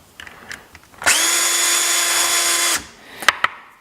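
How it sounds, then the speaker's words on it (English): A power drill spins a primer pocket tool inside a brass cartridge case, a steady loud whine for nearly two seconds that stops abruptly, then a couple of small clicks and taps. "There's no real rhyme or reason how long you let it spin in the drill"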